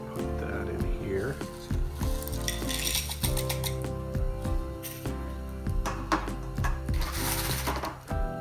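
Paydirt sloshes and grates in a gold pan, water swirling with gritty scraping and metallic clinks in an uneven, steady rhythm, close and fairly loud.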